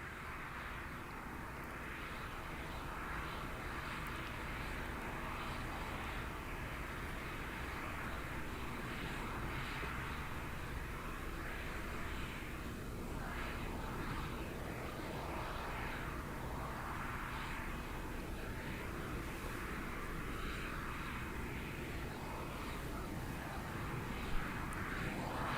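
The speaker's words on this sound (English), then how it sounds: "The shuttle carrier aircraft, the modified 747, has 4 Pratt & Whitney gas turbine engines" A modified Boeing 747 Shuttle Carrier Aircraft with four Pratt & Whitney gas turbine engines arrives at Kennedy Space Center. Its engines make a steady, broad roar that holds at an even level throughout, with no voices.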